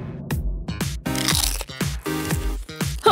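Crunchy bites into spicy food come close and loud, several sharp cracking crunches in an uneven rhythm followed by chewing, with no talking.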